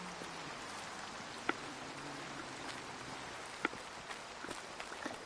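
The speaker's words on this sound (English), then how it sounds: "Looking for this sodding deer in the night in the pissing rain" Steady rain falls through a night forest in the hunting game Way of the Hunter, a soft even hiss with a few faint sharp drips or taps, fairly quiet and free of speech.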